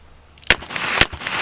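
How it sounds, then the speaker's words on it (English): Black powder revolver fired outdoors, sharp loud cracks about half a second apart with brief ringing decay between them; only two shots are audible here. "That was all 6 shots."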